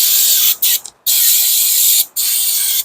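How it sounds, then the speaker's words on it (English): Brake cleaner sprayed from an aerosol can onto the rear brakes of a BMW Z3: loud, close hissing bursts with a few short breaks, a brief spurt in the middle and no talking. "Now here I'm just gonna spray with some brake cleaner."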